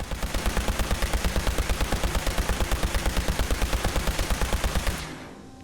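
A rapid-firing automatic laser rifle in Fallout 4 sends out a long, even burst of loud pulsed shots at a fast steady rhythm, then cuts off abruptly and leaves a brief fading tail.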